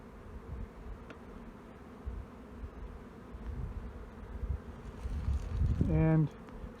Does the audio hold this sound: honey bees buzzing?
yes